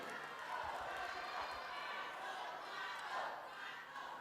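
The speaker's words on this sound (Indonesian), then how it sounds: "Kita berikan tepuk tangan untuk paslon nomor urut 1." An audience at the final 2024 public debate between mayoral and vice-mayoral candidates makes a dense, steady crowd roar for about four seconds, with voices mixed into the noise.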